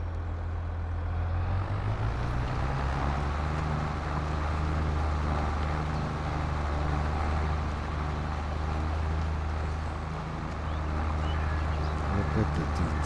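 Steady diesel tractor engine from the Farming Simulator 22 video game, a loud continuous low rumble with constant drone, heard up close throughout, with a faint voice beneath.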